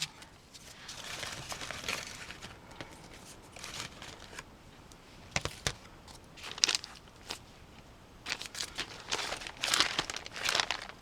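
Scissors snip through paper scraps and packaging in a quiet room, giving soft crinkly cuts and rustles that come in irregular bursts, louder clusters toward the end, with no talk.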